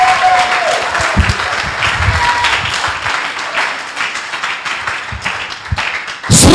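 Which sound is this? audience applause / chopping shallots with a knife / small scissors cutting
audience applause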